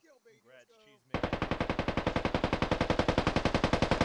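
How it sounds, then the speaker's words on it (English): A rapid, steady burst of automatic rifle fire in the military shooter game Squad, loud and close, dozens of evenly spaced shots after a short stretch of quiet talk. "In the celebratory gunfire."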